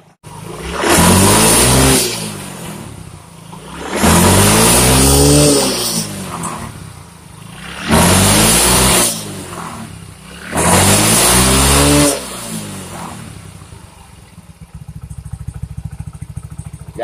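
A fuel-injected motorcycle engine, tested for sputtering under throttle, revs loudly in four bursts of about two seconds each, each rising and falling back to idle, before settling into a steady idle.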